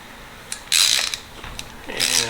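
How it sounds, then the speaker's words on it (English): A wrench loosens the oil drain plug on an MTD Yard Machine snow blower, the plug set in a metal tube held with vise grips; several close metallic ratcheting clicks and scrapes come in bursts, with no talk. "we have to get this oil drain plug out, but it's in this metal tube"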